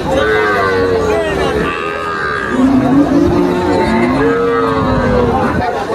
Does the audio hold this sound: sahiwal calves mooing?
yes